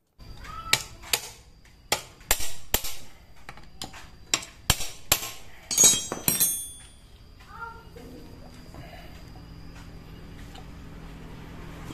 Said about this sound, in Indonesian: Rantai ketangnya bisa langsung dipasang ya